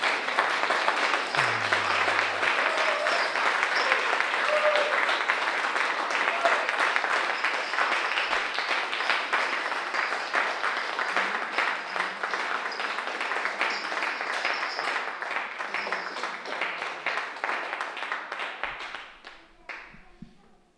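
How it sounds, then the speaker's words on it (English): An audience at a music performance claps steadily for nearly twenty seconds, a dense wash of hands that fades out at the end, with only a faint voice buried underneath. "you can clap if you want to."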